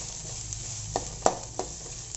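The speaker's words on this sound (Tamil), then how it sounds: "இப்போ இந்த வெங்காயம் வந்து நல்லா வதங்கணும்" Onions sautéing in a pan for a quick lentil-ball curry, giving a steady low sizzle with a few sharp stir scrapes and clinks of a spoon against the pan, close and fairly quiet.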